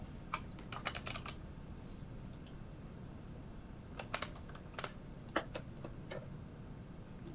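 Computer keyboard typing in short bursts of rapid key clicks separated by pauses, moderately close over a steady low background hum, with no talking.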